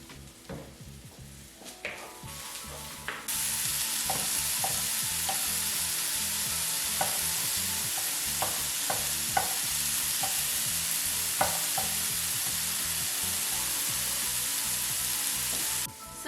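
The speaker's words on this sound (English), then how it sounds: "now that our mushrooms have a nice sear on it" Mushrooms sizzle loudly and steadily in a hot pan for shakshuka, with intermittent scraping and knocking as they are stirred; the frying starts a few seconds in and continues to the end without talking.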